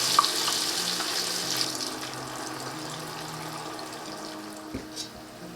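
Potato fries frying in hot oil held at 320 to 330 degrees, a steady broad hiss with faint crackle running throughout at moderate level, with a couple of soft low thumps near the end.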